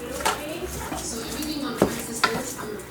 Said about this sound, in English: Mixing up all those flavors, the peppers, the onions, the fresh garlic.